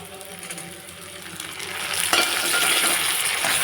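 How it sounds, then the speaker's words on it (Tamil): Chopped tomato hitting sautéed shallots in a hot pan, a steady close sizzle that swells louder partway through as the pieces go in and get stirred, no voices. "இனி அந்த கட் பண்ணி வச்ச ஒரு தக்காளியும் இதில் போட்டுடலாம்"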